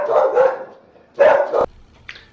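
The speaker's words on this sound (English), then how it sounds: "the dog started barking" A dog barks in two bursts, a longer one at the start and a sharper one a moment later, with a faint short yip at the end, fairly close and loud with no talking.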